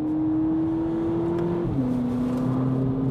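A 2018 VW Polo GTI engine holds a steady drone, then shifts to a lower pitch as it changes gear during a hot lap on track, heard continuously from inside the car at moderate loudness.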